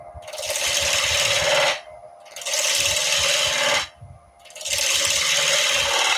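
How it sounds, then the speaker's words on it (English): A skew chisel's tip cuts into solid timber spinning on a wood lathe, giving a loud, close hissing scrape in three long passes with short pauses between them. "Using the tip of the skew"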